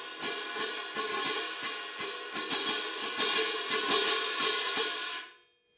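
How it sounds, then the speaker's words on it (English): Fast, light crash cymbal crashes played in march style, a rapid run of about a dozen bright, shimmering hits in steady rhythm that ring on and then fade, close and fairly loud with no talking. "Now this is also how I will play fast crashes in a march."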